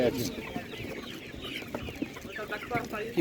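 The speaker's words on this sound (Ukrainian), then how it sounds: "Ще трошки вибір курочок є." Hens cluck and chatter in a busy stretch of chickens for sale at a village livestock market in Ukraine, close and continuous, with faint market voices in the background.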